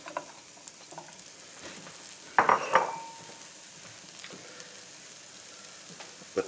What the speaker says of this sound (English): There's just a little over a tablespoon of butter. And to that we're going to add our onions.